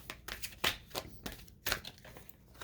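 A deck of tarot cards is shuffled by hand, with a series of close, crisp riffling bursts and soft flicks in an irregular rhythm.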